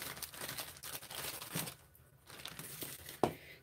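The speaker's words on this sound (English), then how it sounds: "what I'm gonna do is take my cocoa butter and I'm gonna kind of cut it up a bit" A knife shaves and cuts through a firm block of cocoa butter on a work surface, giving soft dry scraping and crinkly crumbling bursts, with a sharper tap near the end.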